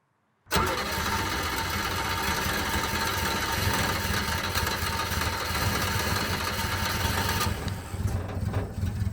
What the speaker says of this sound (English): So it has started and is running, just not very well.